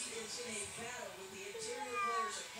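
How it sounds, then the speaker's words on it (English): A cat meows several times up close, with short, wavering cries coming in a loose, uneven rhythm against a quiet indoor background. "Yes, it's a cat."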